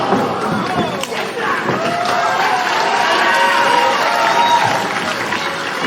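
A wrestling crowd at a tag team match cheers and applauds continuously, a dense roar of clapping and shouting that holds steady throughout, with a commentator's voice faintly mixed in.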